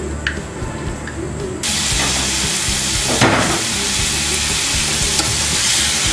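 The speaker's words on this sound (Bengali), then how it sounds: "সেমাইগুলো ভাজা হয়ে গেছে এবার এর মধ্যে আমি কন্ডেন্স মিল্কটা দিয়ে দিচ্ছি" Fried vermicelli sizzles loudly in a pan as condensed milk is poured in, a hissing surge partway through followed by sustained steamy frying with stirring scrapes; no talking.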